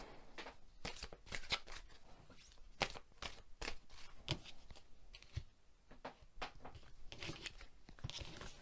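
Art of Manifestation oracle cards being shuffled by hand, close and quiet, in a series of crisp riffling bursts and soft slaps over about eight seconds, with no talking.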